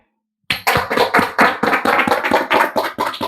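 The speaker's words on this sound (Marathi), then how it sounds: "त्यांना जोरदार टाळ्या होऊ द्या." An audience at a prize draw claps for a winner, a burst of fairly close applause that starts suddenly after silence and continues in uneven waves of hand claps for about three seconds.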